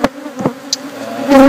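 Honeybees around opened hives make short buzzing bursts as individual bees pass close by, then a louder sustained drone swells at the end.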